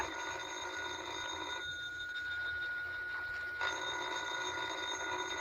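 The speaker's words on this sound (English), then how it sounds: "ain't you going to answer the phone?" A telephone bell rings as a sound effect in an old-time radio mystery drama, a steady ringing tone running through the whole stretch with a slight change in the middle, with no voices over it.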